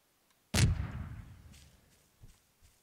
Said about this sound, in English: An HE missile? Not as bad, or not as big of an explosion.